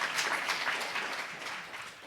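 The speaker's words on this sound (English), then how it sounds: "Please give her a round of applause." A crowd at a Moving Families Forward event applauds Lieutenant Governor Hochul, a moderately loud, even wash of many hands clapping that tapers slightly toward the end, with no talking over it.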